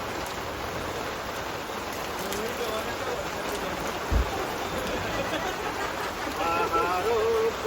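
Heavy rain pours in a constant broadband hiss, with faint voices and a brief thump partway through.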